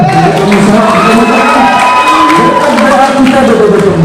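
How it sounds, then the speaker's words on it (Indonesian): A crowd of high school students at a scholarship event cheers and shouts loudly, with scattered clapping mixed into a dense, continuous roar of voices. "Tepuk tangan dong"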